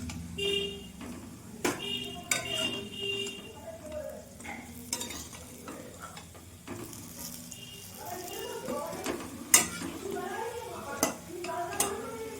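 Chana dal frying in a pan for a Bengali dalna is stirred and lifted out, with scattered utensil scrapes and clinks over a soft sizzle, close by.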